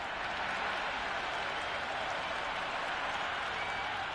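A cricket crowd applauds a big hit in a women's match: steady, even clapping and crowd noise hold at one level throughout, loud and close, with no breaks.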